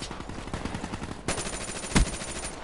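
FFAR assault rifle fire in a shooter video game, rapid close bursts of automatic gunshots crackling in quick rhythm, with a sharper louder shot near the end and no talk.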